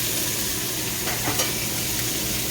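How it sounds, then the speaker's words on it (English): Jalapenos and pepper sautéing in bacon fat, a loud, continuous close-up sizzle with a brief stirring scrape in the middle. "all these jalapenos, all that pepper, and now they're going into bacon juice"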